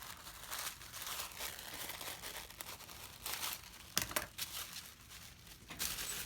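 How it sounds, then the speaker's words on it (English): Tissue paper is handled and crinkled close by, with repeated soft rustles and crackles and a few sharper crunches, all without talk. "I'm going to grab a little bit of tissue paper here."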